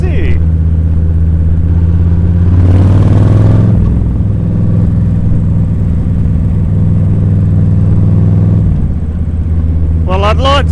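A large group of around 200 motorcycles runs nearby with a loud, steady engine drone and one rising rev in the middle, while people talk close by.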